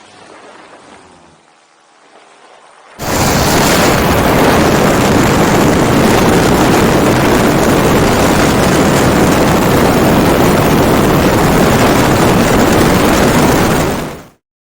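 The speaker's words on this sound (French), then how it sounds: "ce moteur qu'il faudrait bien éteindre avant d'atterrir" A paramotor engine runs in flight: after a few quiet seconds a loud, steady propeller-engine drone starts abruptly and holds constant, very close and dominating, before cutting off near the end.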